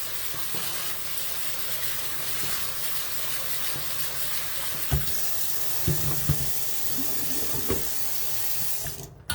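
Steady rush of a running kitchen tap as cabbage leaves are rinsed in a sink, with a few soft knocks and splashes as the leaves are handled, continuous and close throughout.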